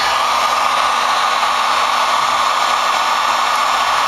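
A heat gun blows hot air onto a Heat Demon heated handle grip on a Polaris quad, giving a loud, steady, unbroken whooshing roar with no talking.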